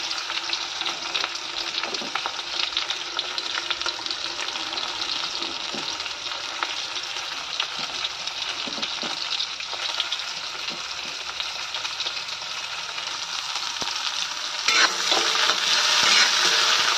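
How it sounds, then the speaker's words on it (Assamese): Onions fry in a hot wok with a loud, unbroken sizzle throughout, a few faint stirring scrapes underneath, swelling a little brighter toward the end. "এইফালে পিঁয়াজখিনি গোটেইখিনি একেলগে মই দি দিম, অলপমান ৰঙচুৱালৈকে এইখিনি মই ভাজি দিম গোটেইখিনি।"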